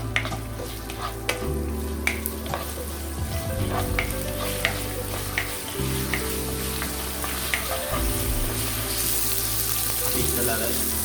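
Cinnamon, cardamom and cloves fry in hot oil for a chicken curry, a steady close sizzle broken by bursts of stirring and clinks of a utensil against the pan.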